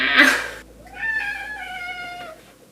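A cat gives one drawn-out, tonal meow up close, preceded by a brief burst of rustling noise.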